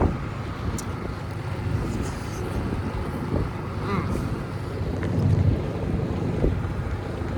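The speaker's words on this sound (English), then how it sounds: "we're entering Elliott Bay right now. Good strong wind." Boat entering Elliott Bay in strong wind, with steady low wind and engine rumble buffeting the microphone throughout, plus faint water wash and brief voices in the background.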